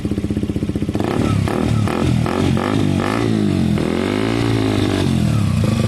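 A KTM 125 motorcycle fitted with an aftermarket Black Widow exhaust idles with a steady putter, then revs hard in several loud, close bursts rising and falling in pitch, with a slight exhaust blow at a poorly clamped joint.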